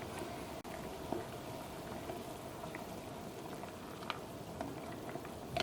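Garlic red chilli curry with kudampuli simmering in a pot gives faint, continuous soft bubbling with a few small pops and clicks.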